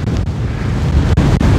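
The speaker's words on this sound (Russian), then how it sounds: "Пришел шквалистый ветер." Squally storm wind on the beach at Anapa buffets the microphone in a loud, continuous roar with gusting bursts, and sea surf rumbles underneath.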